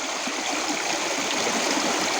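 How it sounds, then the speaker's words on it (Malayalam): A small waterfall on a forest stream at Choriyankunnu rushes and splashes in a steady, loud, close wash of flowing water with no voices. "മുന്നോട്ട് പോകുമ്പോഴേ ഇതുപോലെ ചെറിയ ചെറിയ വെള്ളച്ചാട്ടങ്ങളുണ്ട്"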